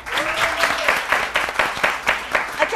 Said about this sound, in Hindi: तालियों में बताएं भाई